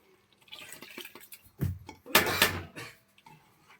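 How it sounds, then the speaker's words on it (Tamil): Water is poured into a pot of Hyderabad-style chicken biryani after the fried chicken goes in, heard as a couple of loud splashing, gushing bursts with short pauses between, close by and with no talk. "தண்ணி ஊத்திக்கிறேன் கொஞ்சம்."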